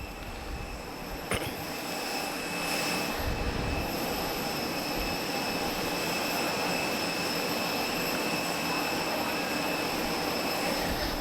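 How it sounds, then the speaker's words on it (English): At the Portugal Air Summit 2022 airshow, an aircraft taxis after its display with a steady, moderately distant engine drone carrying a high whining tone, while faint ambient noise and a brief knock sound early on. "the car and the aircraft that have just done a joint display together are just taxiing behind us here"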